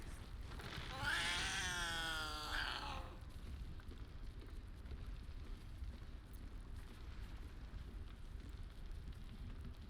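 A cat in the video game Baldur's Gate lets out one long, wavering meow that rises and falls over about two seconds. It sounds close and clear above a low, steady game background, then stops, leaving only the ambient hum.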